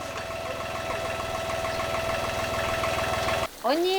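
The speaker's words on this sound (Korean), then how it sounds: "돌철 씨 손에 들어가면 시동이 안 걸리던 고물 트랙터도 보물이 됩니다" An old, roughly thirty-year-old tractor engine runs with a steady, knocking idle rhythm for several seconds, then cuts briefly and catches again with a rising whine, loud and close.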